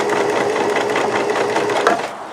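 A sewing machine driven by foot pedal runs fast and loud down a thick jeans seam, a dense continuous whirring stitch that cuts off abruptly at the end.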